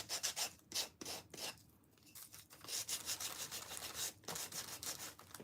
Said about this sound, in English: You want a pretty rough piece to sand with. So this is a higher grit that I've got in this one.